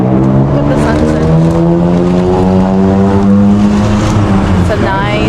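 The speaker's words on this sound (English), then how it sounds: "Another tuk-tuk ride." Tuk-tuk ride through Bangkok at sunset, the small engine droning loudly and steadily with shifting, wavering pitch throughout, heavy wind and traffic noise layered over it.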